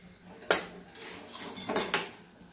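Spoon scraping and clinking against a metal pot or bowl while vada pav filling is mixed with sugar and lemon juice, two or three sharp clatters over soft stirring, close up.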